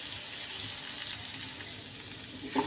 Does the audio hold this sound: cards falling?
no